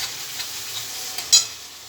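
Spice paste cooking in a pan gives a soft, even sizzle, with faint stirring scrapes and one brief louder clink near the end, and no voices.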